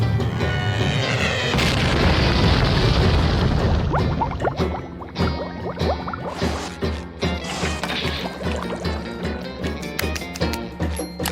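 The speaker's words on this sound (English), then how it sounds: "the water out of the ocean into his leaf blower bag until it explodes" A cartoon explosion in an animated SpongeBob episode, where a leaf blower bag packed with ocean water bursts: a dense, loud blast and splashing crash, followed by scattered smashing and pattering debris that gradually thins out.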